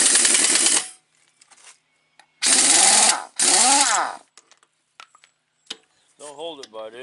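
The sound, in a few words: 1-inch drive tool loosening tight truck axle nuts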